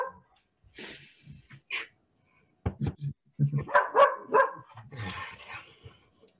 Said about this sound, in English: All the animals are being disruptive tonight. Dog is saying hi.